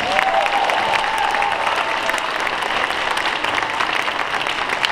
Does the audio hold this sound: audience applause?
yes